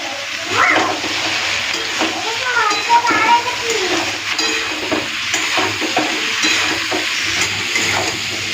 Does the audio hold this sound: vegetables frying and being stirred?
yes